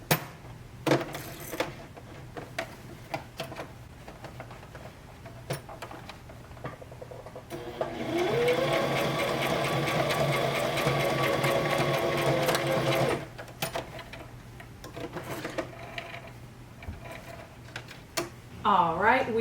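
A sewing machine runs a straight stitch along a stuffed owl toy, a steady close whir lasting several seconds with quieter handling noises and a voice talking before and after it.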